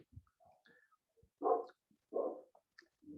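A dog barks twice in a quiet room at home, two short, moderately loud woofs about a second apart, with faint scattered small noises between them.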